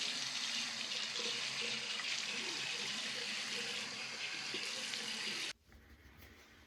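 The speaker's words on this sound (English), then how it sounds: "I'm going to go ahead and rinse off and then we'll re-lather." Tap water runs steadily into a sink as a man rinses off between shaving passes, a continuous close splashing flow that cuts off abruptly near the end, leaving a quiet room.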